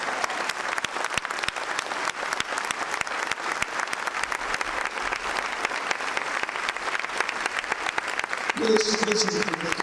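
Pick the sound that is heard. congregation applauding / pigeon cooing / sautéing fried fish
congregation applauding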